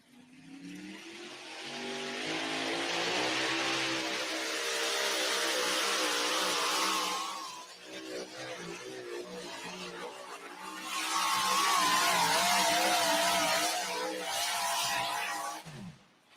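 An orange Farmall pulling tractor roars at a tractor pull, its engine revving hard and loud in long sustained pulls, dipping briefly midway before surging again to full power, then cutting off at the end.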